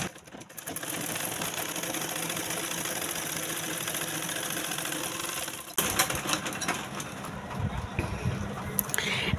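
Domestic sewing machine stitching fabric with the stitch length dial set at 10, a steady close mechanical whirr running continuously before a brief shift to a rougher, louder patch near the end.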